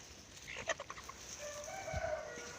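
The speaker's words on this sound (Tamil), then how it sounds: "ஒயிட் கலர் ஃபீமேலுக்கும் காக சேவலுக்கும் ஆன ஒரு கோழி குஞ்சு தான் இது" A young chick, three and a half to four months old, bred from a white hen and a crow-coloured rooster, lets out a few short faint clucks and chirps against quiet farmyard background, with one low thump near the end.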